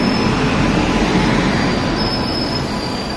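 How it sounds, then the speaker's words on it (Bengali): The Jangipur Express pulls into Naihati station with a loud, continuous rumble of rolling railway cars and a thin, steady squeal of wheels on rails. No voices can be heard. "এইমাত্র আমরা নৈহাটি স্টেশনে এসে পৌঁছলাম এবং নৈহাটিতে জঙ্গিপুর এক্সপ্রেস ট্রেন ঢুকবে।"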